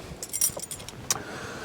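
Car keys jangle briefly as someone sits on them inside a car, a few quick, close metallic clinks in quick succession, fairly faint.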